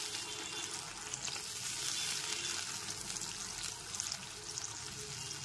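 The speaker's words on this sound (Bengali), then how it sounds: "লবণ আর হলুদ গুঁড়োটা দিয়ে খুব ভালো করে কষিয়ে নিতে হবে" Pabda fish curry masala sautéing in a pan with turmeric and salt, a soft continuous sizzle with faint stirring scrapes, quiet and close with no talking.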